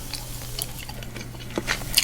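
Gum chewed close to the mic gives soft, moist smacking and clicking through a quiet, steady background, with no talking.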